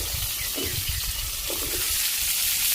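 Chopped ash gourd dropped into a pan of frying onions gives a steady, close sizzle with soft stirring and scraping, no talk.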